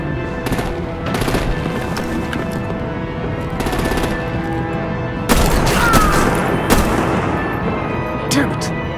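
Heavy artillery and automatic gunfire in Batman: The Enemy Within, repeated bursts of shots and booms over a loud, sustained din, with voices shouting in the mix.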